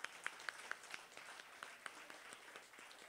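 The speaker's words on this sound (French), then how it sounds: "Une bonne main d'applaudissements à tous ces merci-là." An audience at a band competition show claps, giving scattered, fairly faint applause with sharp individual claps over a soft wash, fading slightly toward the end.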